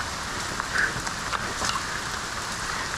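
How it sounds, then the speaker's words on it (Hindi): Rain falls steadily in the dense Andharban Dark Forest, a soft, even hiss of drops on foliage with faint occasional patters, fairly quiet and with no one talking. "अभी तेज बारिश फिर जंगल के अंदर स्टार्ट हो गया।"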